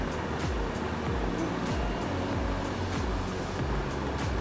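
Bengali ridge gourd and prawn broth boiling in a pot, a steady bubbling wash that holds at an even level throughout with no talk.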